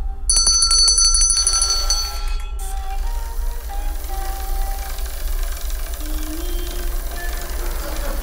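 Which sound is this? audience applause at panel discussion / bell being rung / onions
bell being rung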